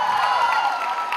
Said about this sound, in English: You can give it a huge round of applause for that.